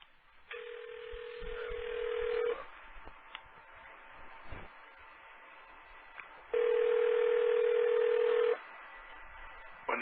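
Telephone redial dialing tones: two long steady electronic tone bursts, each about two seconds, separated by a quieter gap with faint line noise, heard over a phone line with no talking.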